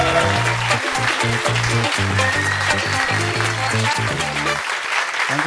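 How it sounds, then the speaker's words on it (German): Dense, loud audience applause on a German comedy game show, continuous clapping lasting the whole stretch with a faint musical sting underneath. "Dann einen großen Applaus."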